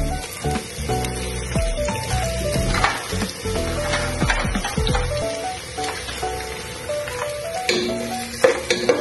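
Onion and garlic sizzle and crackle in hot cooking oil, a steady hiss with popping spatters and occasional stirring clatter, close and continuous.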